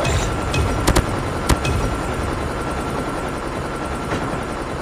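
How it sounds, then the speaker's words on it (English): A stealth chopper in Call of Duty Mobile drones steadily as a loud, broadband rotor-like wash through the whole stretch, with a few sharp clicks or shots cutting through early on. "Stealth chopper inbound."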